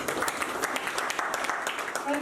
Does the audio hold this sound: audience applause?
yes